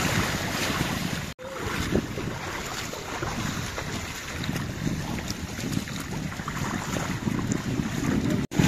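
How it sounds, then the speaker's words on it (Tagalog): Island-hopping boat out on open water at Hundred Islands, Pangasinan, with a constant rush of waves and heavy wind buffeting the microphone, no talking. "Ito na yung bangka natin na sinakyan."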